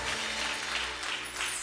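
A church congregation claps through a sermon by a pastor. The applause is a dense, steady wash of many hands throughout, heard from a distance.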